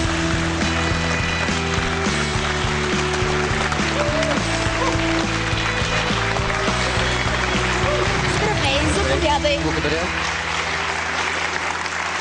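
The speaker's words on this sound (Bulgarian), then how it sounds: "Моля вашите аплодисменти за Лайла!" A television talk-show studio audience applauds a guest, the clapping running under a loud musical sting, with a couple of brief spoken words near the start.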